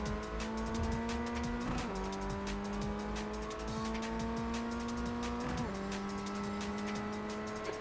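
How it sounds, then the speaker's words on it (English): A Ray FF1600 race car at Lime Rock Park, its brakes locking up, heard as a loud, close engine roaring and revving steadily with a couple of sharp pitch drops as it shifts, amid scrubbing, squealing tire noise. "It's not holding it, that's locking your brakes up."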